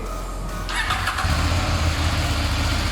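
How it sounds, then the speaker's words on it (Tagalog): A CFMOTO 800cc adventure motorcycle engine cranks briefly and catches, then settles into a steady, loud, close idle with a low rumble throughout. "yan yung tunog ng napakalaki na 800cc na motor"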